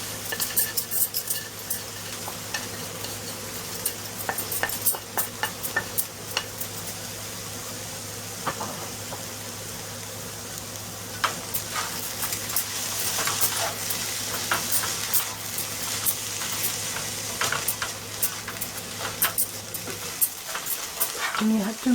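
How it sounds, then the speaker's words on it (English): Spices being stirred into sprouted mung beans in a hot pan, giving a steady scraping stir over a soft sizzle with light utensil clinks throughout, close and fairly quiet. "Now I'm going to add all the spices to it."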